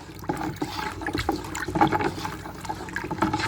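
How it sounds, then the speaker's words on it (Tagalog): Water stirred by hand to dissolve fertilizer for grapevines, a close sloshing and swirling with uneven splashes and gurgles continuing throughout. "haluin lang natin at mekos natin yung tubig para matunaw yung fertilizer"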